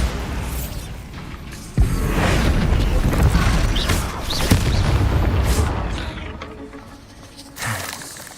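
A Bombarda spell explodes in Hogwarts Legacy with a sharp, loud crack followed by a long rumbling blast and crackling debris, then a second, smaller burst near the end.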